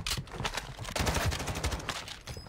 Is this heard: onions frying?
no